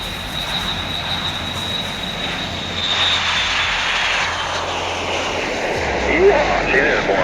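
MQ-25A Stingray unmanned aerial refueling drone's jet engine roaring steadily through its takeoff roll, a continuous broadband rush with a high whine that swells slightly midway and again near the end, with radio voices heard over it.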